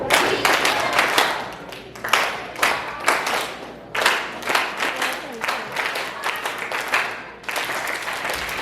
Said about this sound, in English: Now I want everybody to clap it